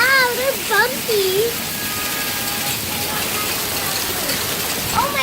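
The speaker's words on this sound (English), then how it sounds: "Dude, it's raining hail!" Hail falling outdoors during a storm makes a steady broadband patter that runs the whole time, while excited voices shout and exclaim over it.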